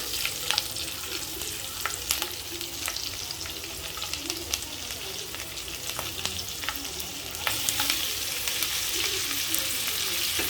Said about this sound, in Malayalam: മൂന്ന് മീഡിയം സൈസ് ഉള്ളിയാണ് ഇട്ടിട്ട്